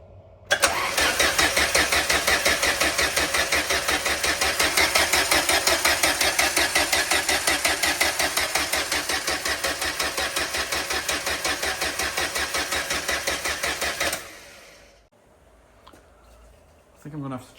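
The starter motor of a Renault 5 TC spins the engine in a steady, rapid, rhythmic churn for about fourteen seconds without the engine catching, then goes quiet. A brief noise follows at the end.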